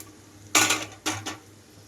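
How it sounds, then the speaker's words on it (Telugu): Cooked cluster bean pieces tipped into a pan make two quick clattering bursts of metal and food against the pan, close and fairly loud over a quiet background. "ఇప్పుడైతే ఇందులోకి ఉడికించి పెట్టుకున్న గోర్చిక్కుడికాయ ముక్కలు మొత్తం వేసేసుకుంటున్నాను"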